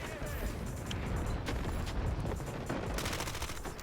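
Rapid bursts of gunfire in the shooter game Delta Force, a steady clattering barrage at moderate loudness with a voice faintly under it.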